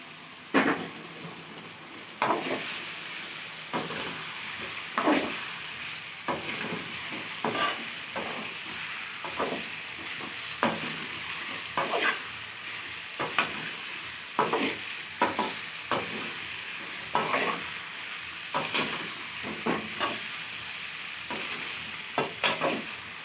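Potatoes fry in egg masala in a pan, a steady sizzle broken by regular spoon stirs and scrapes against the pan every second or so, close and clear with no talk.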